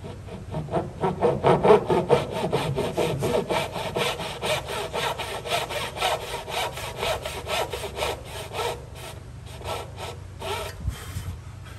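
A hand saw cuts through wood for a dovetail joint in rhythmic back-and-forth strokes, close and clear, strongest early and easing slightly toward the end, with no talking.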